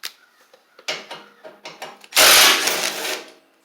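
A 10 mm socket ratchet works bolts loose on a Troy-Bilt Bronco mower, with close, quick clicking bursts in short strokes, followed by a louder scraping, whirring rattle near the end.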